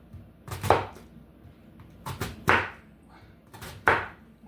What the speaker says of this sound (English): a rough chop across and then twist it the reverse way and chop